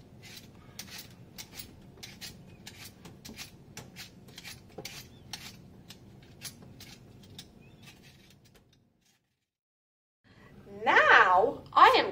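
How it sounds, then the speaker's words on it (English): Potatoes being peeled for meat pies, a steady series of light, rhythmic scraping strokes, close and fairly quiet, then a brief pause before a voice speaks at the end. "I am going to peel potatoes to put in the pies"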